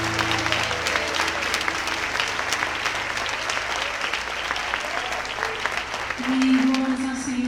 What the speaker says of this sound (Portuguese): Aplauda mais uma vez ao Rei dos Reis.